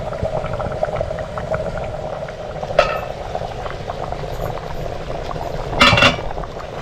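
Masoor dal curry (amti) simmering in a covered pot on low heat in a Konkan home kitchen, a steady bubbling hiss with two brief louder clinks or bursts, no talking.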